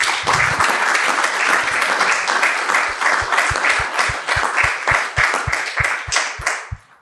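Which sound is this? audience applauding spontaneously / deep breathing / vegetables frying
audience applauding spontaneously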